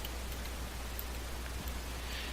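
Rain falls steadily in a video game, a soft even patter that fills a short stretch with no voices.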